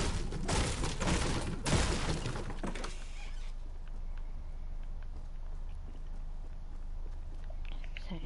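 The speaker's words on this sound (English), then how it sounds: "Well, I hear somebody shooting." Bursts of gunfire in the Fortnite video game, a dense loud volley in the first three seconds followed by quieter distant sparse shots and ambient game noise.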